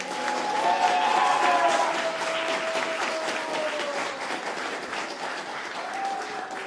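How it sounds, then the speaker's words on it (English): Audience at a workshop giving warm, steady applause as a speaker is welcomed, a sustained wash of many clapping hands with a few whoops, loud and continuous throughout. "Thank you for that roaring round of applause."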